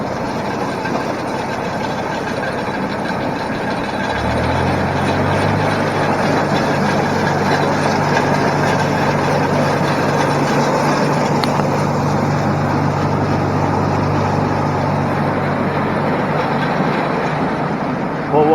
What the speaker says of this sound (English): So step on the clutch, engage the PTO.